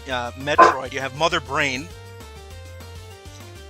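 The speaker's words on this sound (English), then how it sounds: "Sorry, that's my dog." A dog barks several times in quick yapping bursts close to the microphone, overlapping a man's speech, then fades as the talk continues.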